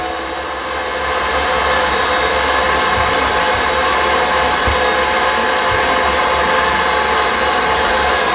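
An electric meat grinder runs steadily, grinding brisket fat trimmings pushed through with a plastic plunger; a loud, continuous motor whine starts in the first second and holds with faint thumps.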